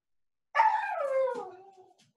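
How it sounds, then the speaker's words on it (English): A single drawn-out dog vocalization, a whining howl-like bark that slides downward in pitch over about a second and a half, close and clear against silence. "Sounds like your dog has a lot more to say"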